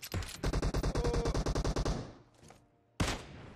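Rapid automatic gunfire in the mobile battle game PUBG Mobile: a fast burst of about fifteen evenly spaced shots, a short pause, then a single loud shot at the end.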